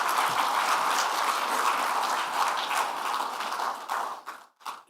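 Sustained applause from a keynote audience at a development conference, broad steady clapping that fills the room before thinning out and breaking off near the end.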